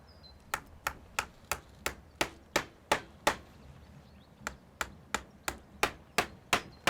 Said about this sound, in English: nail the batten to the doorpost as you go